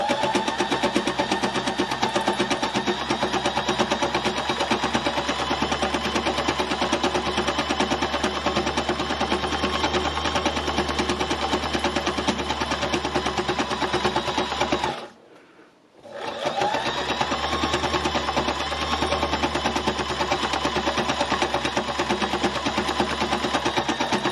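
An embellishing sewing machine runs over fabric with a steady, fast mechanical whirr and rapid needle rattle, stopping briefly for about a second midway before starting again and running on at a constant level.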